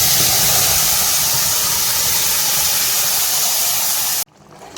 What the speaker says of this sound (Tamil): இப்போ அரைச்சி வச்ச சட்னியை ஊற்றிக்கலாம்.